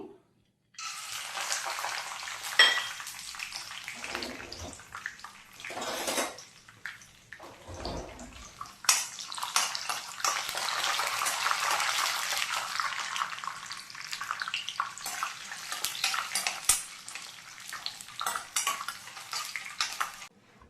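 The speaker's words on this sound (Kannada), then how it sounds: "ಇದೇ ಎಣ್ಣೆಯನ್ನು ನಾವು ನೆಲಕಡಲೆ ಫ್ರೈ ಮಾಡಿ ತಗೊಂಡ್ವಿ" Peanuts fry in hot oil, producing a sustained crackling hiss that swells and holds for many seconds, with occasional clatter of a pan or utensil, close by and no speech.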